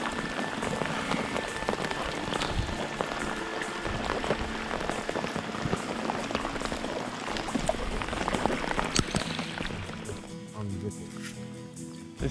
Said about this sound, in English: 2 minutes after that rain shower when we're absolutely drenched